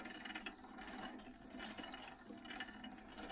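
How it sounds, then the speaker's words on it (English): A mini lathe spindle turns slowly under a manual hand crank, giving faint repeated ratcheting, gear-like clicks in regular cycles about every three quarters of a second, heard alone without talk. "hand cranking the lathe at a much smaller RPM, much lower RPM than 150"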